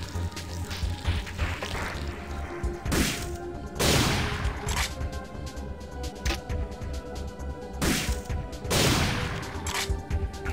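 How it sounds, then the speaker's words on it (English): Grenade blasts and combat impacts in the survival horror game Parasite Eve 2, several loud broadband bursts spaced a few seconds apart over a steady bed of game music and ambience. "I ain't going down there if I can grenade him from here."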